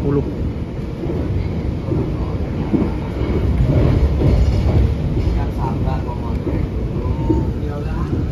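Pandalungan passenger train running through Grati station at about 110 km/h, heard from inside as a loud continuous rumble with faint rhythmic rail clatter.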